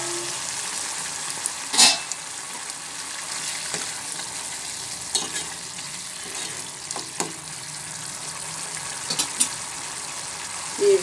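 Mutton keema simmers in a pan with a soft, steady sizzle and bubbling, broken by occasional stirring clicks and scrapes.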